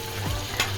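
Meatballs and shrimp sizzle in a hot wok while being stir-fried, a short burst of bright crackling frying cut by a couple of quick scraping stir strokes, with no voices.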